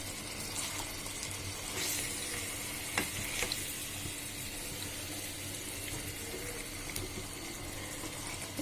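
A whole chicken fries in a pan for a roast chicken musallam, with a steady soft sizzle and bubbling throughout and a few faint clinks and scrapes, no voices.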